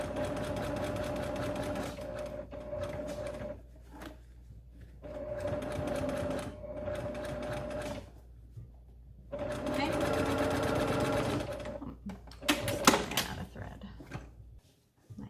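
A sewing machine stitches along the bottom of a nose wire casing on a child's fabric face mask, running in three bursts separated by short pauses, ending with quick irregular stops.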